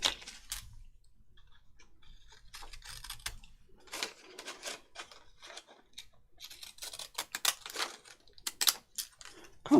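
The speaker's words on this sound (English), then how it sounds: "I'm going to take my decal edge scissors and cut round that" Decal edge scissors snip around a piece of thick creamy paper for junk journaling, making a quick series of sharp, close, crisp cuts in irregular bursts against a quiet room.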